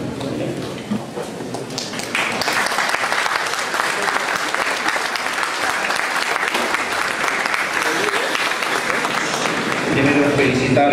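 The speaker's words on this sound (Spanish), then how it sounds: "brindarle nuevamente un fuerte y muy merecido aplauso" An audience applauds at the close of a specialization course on state procurement law, a loud, sustained burst of many hands clapping that swells after a quieter start and keeps going, with some voices mixed in underneath.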